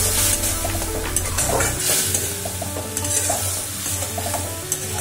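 Spice masala with tomato and sugar sizzling and frying in a pan while being stirred, with close, continuous crackle and occasional scraping of a utensil against the pan.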